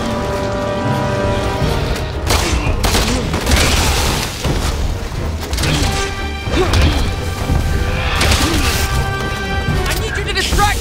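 Heavy aircraft guns firing in Resident Evil 6 gameplay, a loud continuous barrage of impacts and blasts under shouted game dialogue and music.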